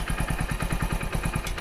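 A Hero Splendor Plus motorcycle engine idles close by, with a steady rapid thumping pulse and a light mechanical clatter running through the whole stretch.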